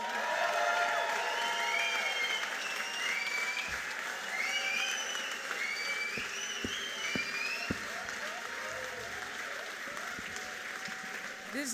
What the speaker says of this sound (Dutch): ik wil een daverend applaus voor eigenlijk maar één persoon